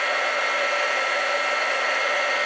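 A heat tool blows steadily and loudly to shrink material, a constant close airy roar with no breaks or voices.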